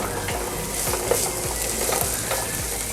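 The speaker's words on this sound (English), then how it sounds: "I love it when I hear the sizzle." Sliced garlic sizzles and fries in a pan for fried rice, a steady close hiss with rhythmic stirring scrapes and no talking.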